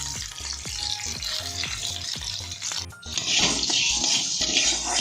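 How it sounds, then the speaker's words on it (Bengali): Paneer strips frying in hot mustard oil in a kadai: a steady close sizzle that swells into a louder, brighter hiss partway through, with a few soft knocks earlier and no talking. "এবার অন্য কড়াইতে সর্ষের তেল দিয়ে তেলটা গরম হয়ে এলে একে একে পনিরগুলোকে দিয়ে দেবো"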